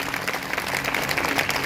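Church congregation at a Hindi Sunday service clapping loudly together, a dense, steady burst of applause heard briefly and at moderate distance.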